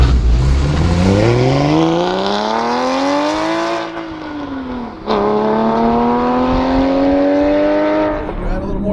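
A 415 hp Porsche Cayman GT4 with a loud Sharkwerks aftermarket exhaust accelerates hard, its engine note climbing steeply through the revs, dropping briefly on a gear change, then pulling up again, loud and close from inside the car.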